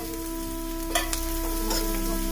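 An egg fries in a pan with a steady, close sizzle, broken by a few sharp clicks and light scrapes over a couple of seconds.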